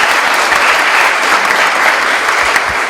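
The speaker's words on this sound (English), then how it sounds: "give yourself a great clap in the back and an applause for the work that you've carried out" A packed room at a Sikh Heritage Month event in the Scottish Parliament, Edinburgh, bursts into applause, a loud, dense, unbroken roar of clapping that holds steady throughout.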